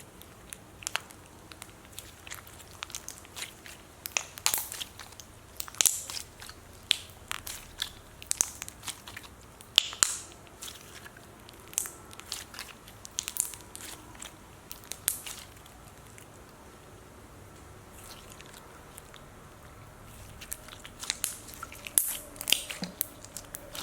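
Toy Smith Crispy Crunch slime being squished and pressed, producing dense, close crackling and crunching pops in irregular bursts, quieter through the middle and picking up again toward the end.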